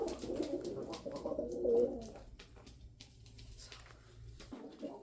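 A male pigeon coos close by in a short, rolling burst, followed by fainter soft coos against a quiet background.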